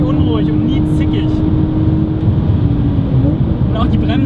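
Rear-engined Porsche 911 (992) Carrera S powering out of a fast left-hander onto the straight at the Lausitzring, a steady, loud engine drone with road roar throughout while someone talks over it.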